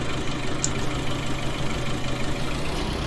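A tractor engine idles steadily throughout, a continuous low rumble with a faint mechanical knock, at even loudness and close by, with no speech.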